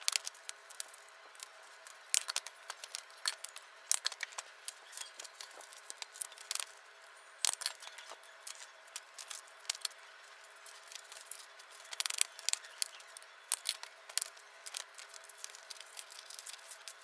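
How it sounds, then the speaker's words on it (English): Paper documents are stapled one after another, giving sharp, close clicks and crunches scattered irregularly across a quiet background, with no talking. "I'm stapling these paper"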